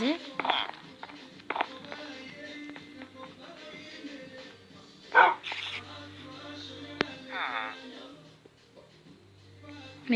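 A dog barks a few times in short bursts in Minecraft, amid ongoing French talk and game sounds, with a whimper-like yip in between.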